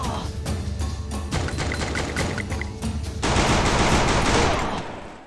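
Gunfire from a gun in a video game: rapid, loud automatic shots in a dense, close burst, then a louder sustained stretch of firing before it fades near the end.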